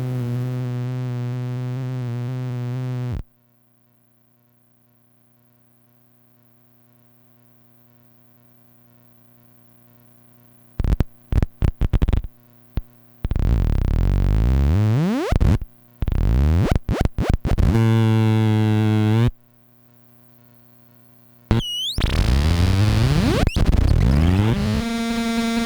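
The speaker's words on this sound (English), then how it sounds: "I'm going to start increasing the amount that the oscillators feed into one another." Synthesizer oscillators cross-modulating one another, producing harsh buzzing drones, sudden bursts and gliding tones that rise in pitch, broken by a long near-silent gap and abrupt cuts.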